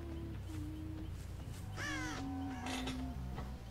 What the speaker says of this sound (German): Hier waren die Raben gerade erst weg gewesen.